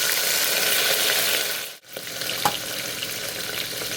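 Whole dried red chilies fry in hot oil in a pulao pan, a steady close sizzle with a brief dip near the middle followed by a small sharp pop.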